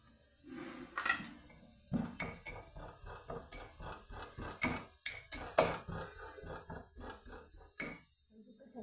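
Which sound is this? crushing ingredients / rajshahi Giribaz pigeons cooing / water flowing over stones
crushing ingredients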